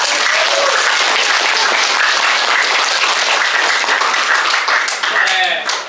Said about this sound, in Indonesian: mari kita sambut dan berikan tepuk tangan yang meriah